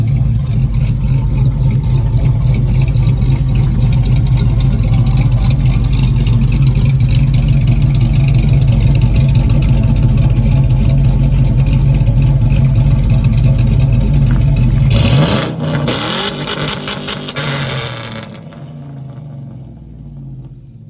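A fishing rig's engine roars loud and steady through its exhaust, a heavy low drone that holds for about fifteen seconds, then cuts off and fades to quiet.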